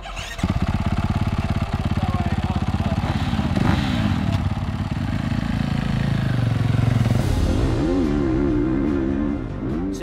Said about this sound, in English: has started his hot lap on his 450 race bike